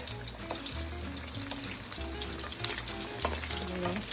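Salmon bites fry in a hot pan with a steady, loud sizzle, and a few utensil scrapes and stirs sound as the pieces are moved around, with no talking.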